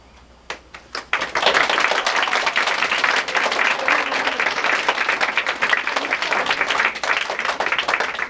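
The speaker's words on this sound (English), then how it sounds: "Please hold your applause until I announce every character." Audience applause after a scene from a 1997 school staging of Julius Caesar: a few scattered claps at first, then a dense, sustained burst of clapping that holds loud to the end.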